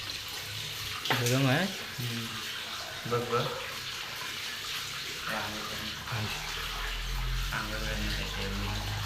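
Hot spring water gushes steadily into a bathing tank at Unhavare in Konkan, a constant close rushing flow, while people talk and exclaim over it.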